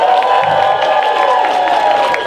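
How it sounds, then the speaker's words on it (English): Dense clapping and cheering from a Dragon Con 2024 convention panel audience, loud and close with shouts and whoops over continuous applause. "Clap it up for yourselves."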